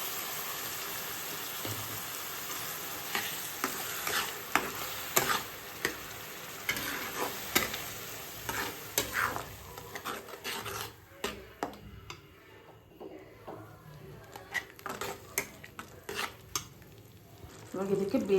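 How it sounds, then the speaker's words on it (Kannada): Tomato puree with ginger garlic paste sautéing in a pan, a steady sizzle and frying crackle with repeated scraping stir strokes throughout, close and fairly loud, no talking. "ಟೊಮೆಟೊ ಹಾಕೊಂಡು ಸಾಟೆ ಮಾಡ್ಕೊಂಡು"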